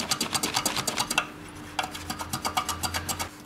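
Rapid rhythmic scraping of a diamond file rubbing back and forth over painted Vespa scooter bodywork, close and steady with a brief pause midway.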